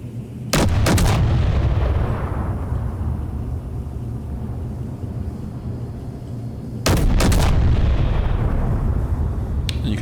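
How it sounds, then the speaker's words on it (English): Double-barrel turret in the game Space Engineers fires two loud, booming shots about six seconds apart, each a sharp close blast followed by a long rumbling decay, with no voices. "And we'll go ahead and shoot this one."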